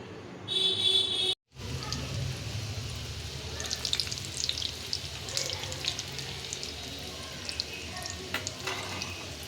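Cheese chicken balls deep-fry in hot oil with a dense, continuous sizzle and scattered pops and crackles close by. A brief tone sounds near the start, followed by a short dropout.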